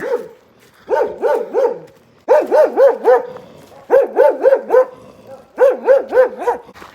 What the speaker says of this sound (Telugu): ఇంటికి ఒక కుక్క ఉంది ఇక్కడ